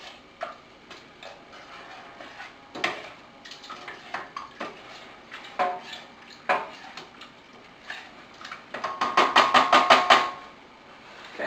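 A spoon knocking and scraping in a pot while chili meat is mixed into its simmering juices, a loose run of sharp taps that speeds up into a quick, louder burst of clinks near the end, with no talk.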